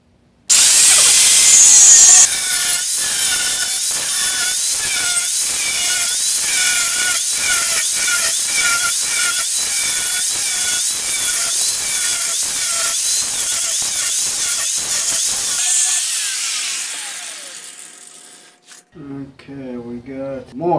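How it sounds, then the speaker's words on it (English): A new corded electric angle grinder cuts through material, a loud continuous high-pitched whine with rhythmic pulsing for about fifteen seconds, then spins down, followed by a brief different whirring. "We've got ourselves a new angled grinder on electricity, not battery."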